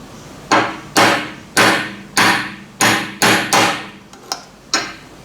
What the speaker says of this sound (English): just gently tap this with a hammer